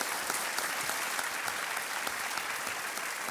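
A game-show studio audience breaks into sustained applause to welcome a contestant, dense and even clapping that stays at a steady level from start to finish.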